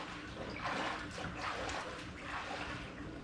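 Water gushes and swirls into a roof cargo carrier converted into a small rowboat beside a dock, a continuous close splashing rush that swells and eases over a few seconds.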